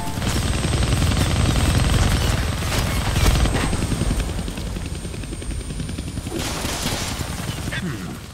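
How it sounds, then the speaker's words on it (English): A helicopter flies close by in the video game Deadpool, a loud, throbbing rotor roar that fills the scene, overlaid with bursts of gunfire and brief clatter. "I can't kill that chopper with my guns"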